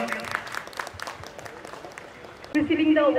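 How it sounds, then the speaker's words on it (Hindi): An audience at an album launch and awards show gives soft, steady applause under a speaking voice. Louder singing or speech then takes over near the end. "तालियां हो जाए प्लीज"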